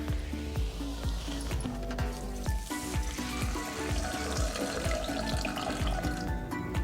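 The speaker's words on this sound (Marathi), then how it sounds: "आपण अर्धी वाटी पाणी घालून घेऊया।" Water pours onto sugar in a bowl while making balushahi, a steady splashing trickle lasting several seconds with faint clinks and taps mixed in.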